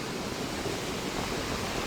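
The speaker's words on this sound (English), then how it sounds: "you see some pretty good waves crashing in out here" Heavy surf pounds near a river mouth on the morning after Typhoon Tino. A dense, steady roar of breaking waves fills the whole stretch, loud and continuous, with no separate crashes standing out.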